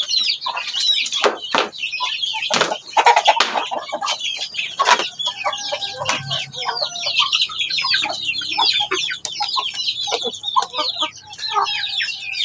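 Native chickens being settled in for the night around a bamboo roost cluck busily and overlappingly, with close, sharp calls, occasional longer squawks and soft wing flutters throughout, and no voices.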